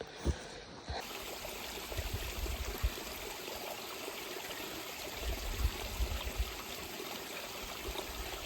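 Snowmelt runs like a river stream along a mountain hiking trail, a steady close gurgle and trickle of flowing water with no talk over it.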